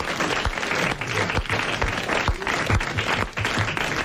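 Studio audience applauds steadily in a 1987 French television talk show, a dense wash of clapping that holds for about four seconds with a few heavier claps standing out near the front.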